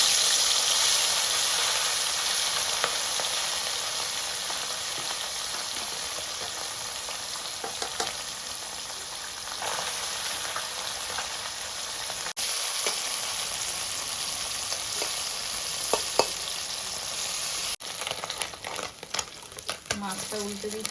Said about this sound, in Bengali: তেল গরম হয়ে গেছে, এবার মাছগুলো ভেজে নিচ্ছি।